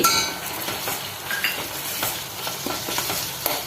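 Chili powder and curry leaves sauté in a hot pan for cheera thandu pulumkari, a Kerala spinach-stem curry, giving a continuous sizzle broken by scraping stirs and light clinks of a spoon against the pan.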